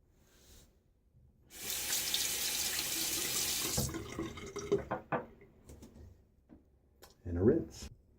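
Tap water runs steadily for a couple of seconds as a razor is rinsed mid-shave with a Blackland Dart safety razor, the broadband splash close and fairly loud, followed by scattered clinks, drips and handling sounds.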